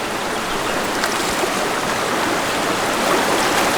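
A mountain river rushes loudly and continuously as a hiker wades across it on a multi-day bushwalk between Homans Gap and Bogong. The flowing water stays close, with a full, unbroken hiss and no voices heard.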